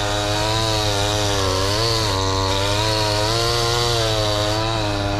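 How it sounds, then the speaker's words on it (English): A small chainsaw drones steadily and close, its whiny engine pitch wavering up and down as it strains through wood, with no voices. "I wouldn't even call that thing a chainsaw."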